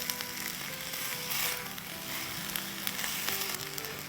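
Minced meat keema sautéing in a pan sizzles steadily and close up, a continuous crackling hiss with occasional louder spits.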